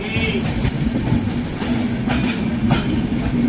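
The Punjab Mail passenger train, Mumbai to Ferozpur, rolls past loud and close with a steady rail rumble, clickety-clack and brief wheel squeal, with no talk over it.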